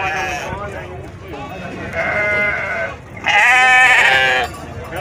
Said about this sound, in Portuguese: Ovelha, ovelha e bode.